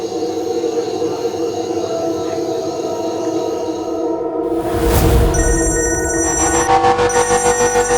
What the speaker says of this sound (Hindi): कॉल आ रहा है।